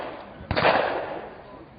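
A 12-gauge shotgun firing double-aught buckshot outdoors, one sharp close blast followed by a short fading rumble.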